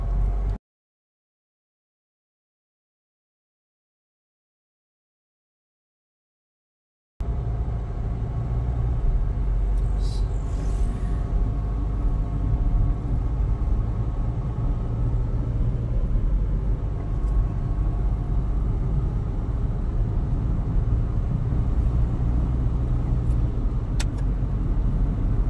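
A Hyundai Tucson with shift shock in second gear and delayed shifting drives along, its engine and road rumble a steady close drone inside the cabin after a brief silence at the start.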